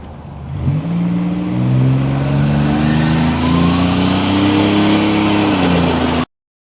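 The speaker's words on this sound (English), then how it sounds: "hopefully you guys are enjoying the turbo sounds." A 1987 Buick Grand National with a stroker 249 engine and Precision 6765 turbo revs loudly and close, its engine note climbing and holding with rising harmonics before cutting off abruptly.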